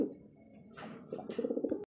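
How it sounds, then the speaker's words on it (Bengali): A single decorative Golla pigeon at a bird sale, cooing in a close, rolling series of soft throaty pulses that rise in strength toward the end before cutting off. "সিঙ্গেল একটা কবুতর, দেখেন এটা একটা অনেক সুন্দর একটা কবুতর"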